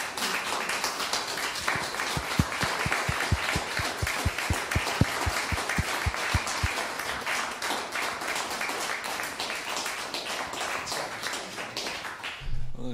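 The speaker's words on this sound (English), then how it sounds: "to give Victor a big round of applause." Audience applause fills a church hall after a live piano recital, a dense, steady spread of many hands clapping at moderate distance, holding for most of the stretch before thinning out near the end.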